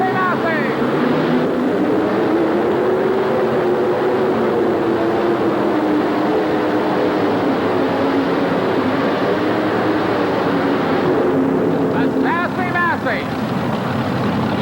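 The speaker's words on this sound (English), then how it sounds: "And here's the Hemi engines called the Milodon." Two Milodon Hemi engines of nearly 600 cubic inches each, around 1,700–1,800 horsepower apiece, roar steadily at high volume on the SASSY MASSEY pulling vehicle at a 1988 tractor and truck pull in Birmingham, Alabama, with an announcer talking over it.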